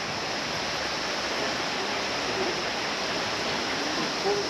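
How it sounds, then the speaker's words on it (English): A river flows past a historic village about 90 minutes from Kathmandu, giving a steady, close, broadband rush of water with no breaks. "So we're here by the river."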